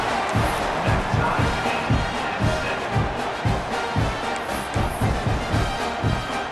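A football stadium crowd buzzes after a score, a loud, dense roar of many voices swelling in rhythmic waves, with faint cheering mixed in throughout.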